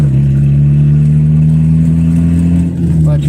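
A car engine revving while a struggling driver shifts into gear: a loud, close, steady engine drone that climbs slightly in pitch and then rises at the end.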